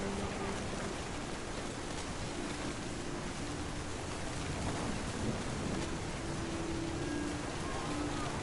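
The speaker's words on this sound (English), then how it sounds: "The thunder sounded much too close and full of angry power" Thunderstorm ambience from the video game What Remains of Edith Finch: a steady wash of heavy rain with low rumbling thunder rolling underneath, dense and continuous throughout.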